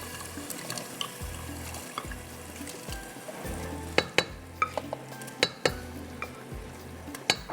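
Lentils go into frying masala for a masoor dal tarka in a home kitchen, with a wet sizzle under stirring and a run of sharp spoon clinks against the pot in the second half.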